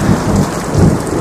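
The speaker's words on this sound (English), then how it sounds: "Yeah, some thunder." Thunder rumbles over a steady downpour of heavy rain during a storm ride, loud and continuous for the whole stretch with a low swelling roll underneath.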